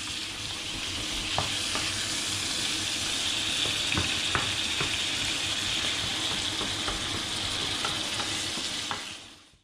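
Wild boar meat sizzles and fries steadily in a pan, a loud continuous crackle broken by occasional sharp pops and stirring scrapes, with no voices.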